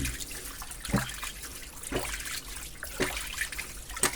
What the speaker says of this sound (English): You hear that? That's the ram pump working.